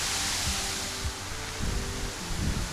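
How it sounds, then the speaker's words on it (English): A man-made waterfall pours into a pond in Uman, Ukraine, making a steady broadband rush of falling water. Faint low thumps and wind buffeting come and go underneath, and nobody talks. "there's a man-made waterfall going on here"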